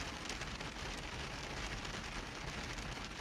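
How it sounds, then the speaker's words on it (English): Heavy rain pouring down in a steady downpour, a dense, continuous hiss that holds at an even level throughout with no pauses and no voices. "I'm downpouring, yeah, because the rain's coming down."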